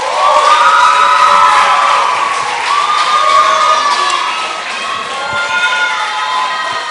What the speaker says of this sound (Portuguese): Eu quero uma salva de palmas para o Flávio.